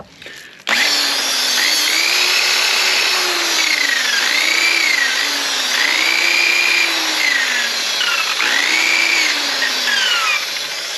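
A bench-style buffer wheel spins up and runs steadily while polishing a Shovelhead motorcycle fork lower, a loud continuous whine whose pitch dips and recovers several times as the part is pressed against it.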